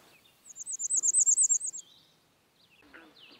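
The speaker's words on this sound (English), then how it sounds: "they've got one of the weakest songs of any warbler, just kind of a black and white warbler type" A warbler in Maine sings a thin, high, weak song of the black-and-white-warbler type, a rapid series of about a dozen evenly spaced notes, close and clear over near silence, followed by a few faint chips.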